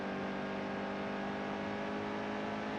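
A race car engine in the NASCAR Heat 2 racing game holds a steady, loud, high-revving drone for the whole moment, with no gear change or pause.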